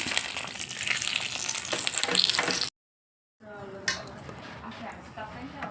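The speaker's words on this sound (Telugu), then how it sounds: "తాలింపులు వేసేస్తున్నాను పెరుగులోని" Hot tempering of mustard seeds, cumin, curry leaves and dried red chillies sizzles as it is poured into yogurt for perugu avada, a loud crackling hiss that stops abruptly, then returns more softly with a brief sharp burst.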